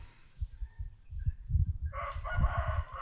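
After a couple of seconds of low, muffled rustling and soft clucks, a rooster crows loudly and close by in one drawn-out call that runs to the end.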